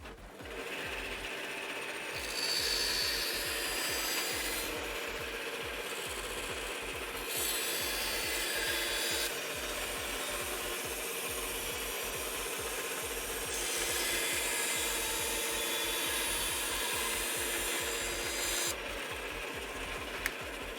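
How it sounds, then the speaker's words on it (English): A continuous bandsaw whines and rasps through small sculpted wooden pieces for a long stretch, its pitch shifting slightly as the cut pressure changes. "I'm going to bandsaw these a moment."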